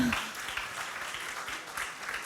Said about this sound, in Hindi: मैं चाहता हूं तालियां बजाई जाएं, 1-2 बार